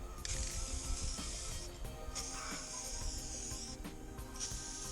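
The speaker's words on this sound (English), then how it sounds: "we spray painted everything black" Aerosol spray paint hissing in bursts as foam board is coated black, three long sprays separated by short pauses, close and steady with a faint mechanical rattle underneath.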